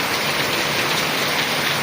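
Dense, steady rain pours down, a continuous close hiss of drops hitting a surface with no pauses or voices.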